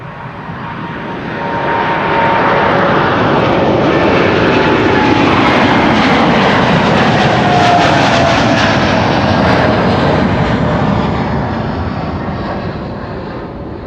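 An American Airlines jet departs Amsterdam Schiphol for Philadelphia, its engine roar swelling up, holding loud and steady with shifting whine tones, then fading as it passes.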